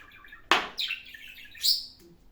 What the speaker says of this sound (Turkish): Oy ben konuştukça kuş konuşuyor.